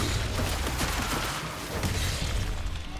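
Dense, continuous gunfire and booming impacts from the action video game Evil West on PS5, loud and relentless throughout with no clear gaps, close and heavily layered.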